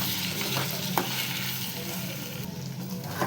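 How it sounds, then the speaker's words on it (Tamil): Chicken pieces stirred in hot frying oil, a steady close sizzle with soft scraping stir strokes running throughout, no voices. "சிக்கனை இதில் நான் ஆட் பண்ணிக்கிறேன். நல்லா மிக்ஸ் பண்ணிக்கணும்."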